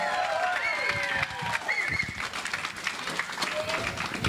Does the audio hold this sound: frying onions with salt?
no